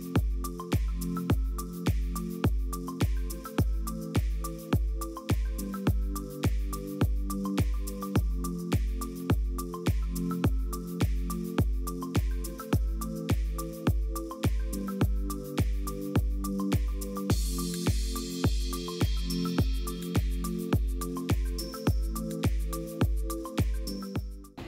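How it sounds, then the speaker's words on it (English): Water drains from a pipe line at a beach house build site in the Philippines, splashing and dripping in a steady, regular rhythm of soft, close pulses that runs throughout, with no talk. "you want to see how the line's doing down through here on dumping out water"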